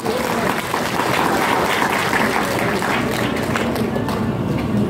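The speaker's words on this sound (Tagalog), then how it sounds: "Palakpak naman po dyan." A crowd at a large event applauds a speaker, with loud, dense clapping that stays steady and unbroken throughout.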